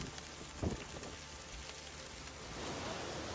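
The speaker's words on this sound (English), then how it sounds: "The rains began suddenly and quickly turned into a prolonged downpour." A steady, dense hiss of heavy downpour falling on surfaces in Taif, Saudi Arabia, growing slightly heavier toward the end, with a brief thump early on.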